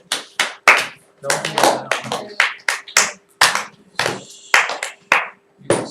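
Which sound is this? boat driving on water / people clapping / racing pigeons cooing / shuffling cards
people clapping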